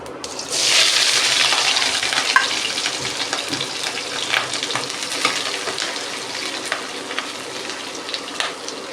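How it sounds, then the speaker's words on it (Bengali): Chopped onion frying in hot oil with cumin and slit green chili, a sudden loud sizzle that settles into a steady crackling hiss, with scattered pops and faint stirring, no voices. "পেঁয়াজটাকে ভেজে নেব।"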